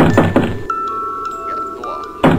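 Dull door thud in a horror video game, a muffled thunk at the start and another at the end, with a faint electronic tone in between.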